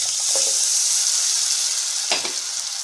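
Mutton keema with turmeric and ginger-garlic paste sizzles steadily in a hot pan, a loud continuous frying hiss broken by two brief stirring scrapes, with no talking.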